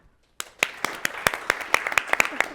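A conference audience claps together on request in a lively, uneven burst of hand claps, with distinct sharp claps standing out from the group sound, close and moderately loud after a brief quiet start.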